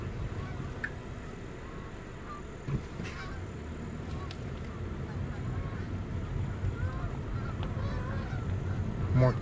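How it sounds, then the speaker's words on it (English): A flock of geese flying over fields and pools, heard as many honking calls at a moderate distance. The calls go on throughout over steady outdoor background noise and grow slightly louder toward the end. "More geese are coming over"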